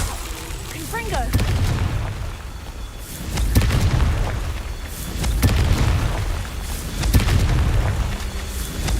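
Repeated deep booming blasts of the Confringo fire spell in the Hogwarts Legacy video game, several loud explosions spaced a few seconds apart over a rumbling game soundscape.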